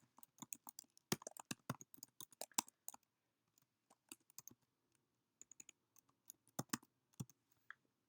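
A login being typed on a computer keyboard, quiet close clicks of keys in irregular bursts with short pauses between, alone with no voices.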